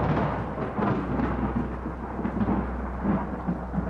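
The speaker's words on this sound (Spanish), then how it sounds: "el sonido de la tormenta que se acercaba" An approaching thunderstorm rumbles continuously, with deep rolling thunder and a steady wash of rain, fairly loud, with no voices.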